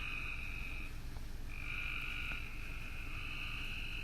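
Frogs croak in a dense outdoor chorus, a sustained trilling drone layered over low, continuous ambient noise with no voices present.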